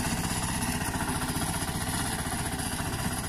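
Tractor engine running in a farm field, a steady, loud mechanical drone with a rough clattering rhythm, continuous and close throughout.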